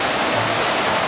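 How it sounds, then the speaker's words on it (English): A waterfall on a creek trail in Pisgah National Forest rushes loudly and close by, a steady broadband roar of falling water with no voices. "Waterfall on the creek trail. It's beautiful."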